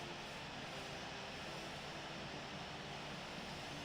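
An Air France Hop Embraer E190 jet taxis at Ibiza in a flight simulator game, producing a continuous, even engine whoosh and hum with no voices over it.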